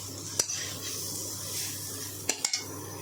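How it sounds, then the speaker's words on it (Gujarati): Carrot halwa being stirred in a pan over a medium-low flame, with a few sharp spoon-against-metal scrapes and clinks over a low, steady kitchen hum; no talking. "તો આ રીતે તેને સતત હલાવતા રહેવાનું।"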